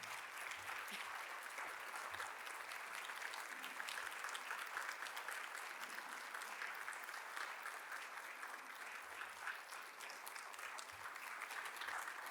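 An audience at an annual celebration event applauds an honoree, a faint, distant and even wash of clapping that runs steadily for about twelve seconds.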